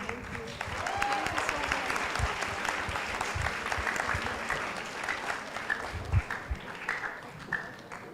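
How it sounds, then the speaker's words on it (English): An audience at a hackathon breaks into sustained applause for a team, dense clapping holding steady for several seconds before thinning out into scattered claps near the end. "Let's give them another round of applause"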